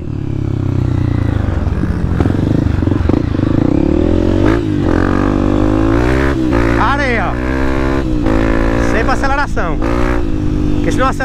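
A dirt bike engine revs loudly and continuously on a dusty trail, pitch rising and falling with throttle bursts, while someone talks over it.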